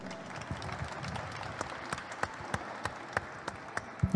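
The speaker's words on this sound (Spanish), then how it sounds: "Es un regalo que le damos todos y todas al escritor Mauricio Palomo. Por favor, un aplauso." Audience applause for the writer Mauricio Palomo at a literary festival meeting with the author, a steady patter of hands with sharper individual claps standing out, moderately distant and fairly quiet.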